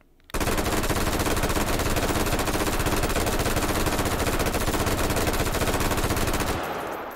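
Sustained full-auto M16 rifle fire in the VR shooting game H3VR, a loud, dense, unbroken rapid burst lasting around six seconds before cutting off with a brief fading tail, no voices.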